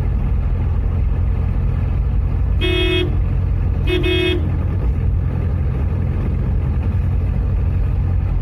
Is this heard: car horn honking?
yes